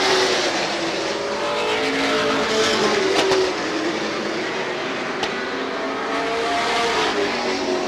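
Race cars roar around the oval at Star Speedway, a loud continuous engine drone with pitches sliding as cars pass close by, one brief sharp pop midway, no talk over it.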